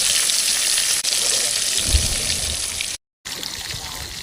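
Jilebi fish coated in masala frying in hot oil, a steady loud sizzle filling the scene with a brief low thump partway through and a short dropout near the end.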